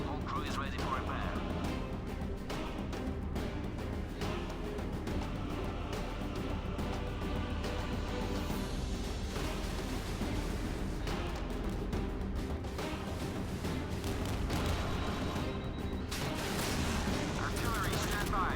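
Continuous warship artillery and rocket fire in the naval combat game Modern Warships, a dense rumbling barrage of booms and blasts that runs throughout without pause.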